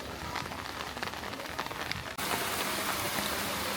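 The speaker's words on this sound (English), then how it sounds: "Even though it's raining" Steady rain falling in a park in Xi'an, a dense hiss of drops on surfaces heard close and continuous, with a sudden jump to louder, brighter rain partway through.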